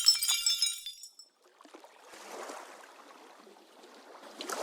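Glass shattering in a sharp, bright crash at the start, its fragments tinkling briefly before a short silence and a low, scattered rustle of debris that swells again toward the end.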